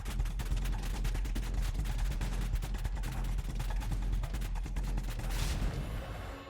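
A huge explosion when the wither spawns in a Minecraft survival world, rendered as a dense, continuous blast and rumble with crackling bursts that holds loud and steady for several seconds before easing slightly near the end.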